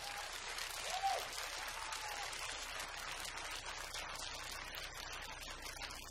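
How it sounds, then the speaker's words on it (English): An audience at the Rod of Iron Freedom Festival applauds two speakers, with a steady wash of clapping at moderate distance running throughout. "Please give them a round of applause."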